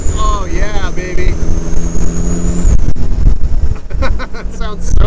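A Suzuki Samurai off-roader's engine rumbles loudly while driving, with people talking over the steady drone.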